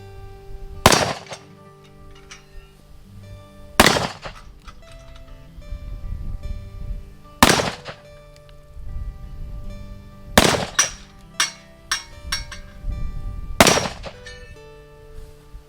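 An Uberti 1872 Open Top revolver fired at an outdoor range at about 10 yards, five loud, sharp gunshots spaced a few seconds apart, each ringing out briefly, with faint handling sounds between shots.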